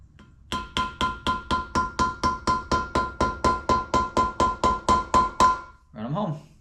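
About twenty quick, evenly spaced metallic taps of a half-inch deep socket seating valve stem seals on an engine cylinder head, close and ringing, followed by a short murmur of voice.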